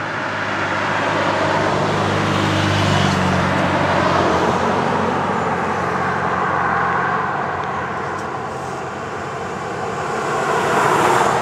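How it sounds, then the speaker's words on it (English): A car passes along a roadway outdoors, a broad steady rumble that swells and fades, loud and continuous with no talk over it. "Car's coming."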